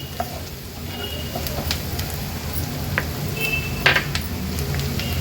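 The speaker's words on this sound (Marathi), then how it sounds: "आता हळद आणि मसाला तेलावर छान आपल्याला परतून घ्यायचा आहे" Turmeric and Agri Koli masala being sautéed in hot oil for a clam dish, with a steady low sizzle, spatula scraping and several bright clinks of metal against the pan.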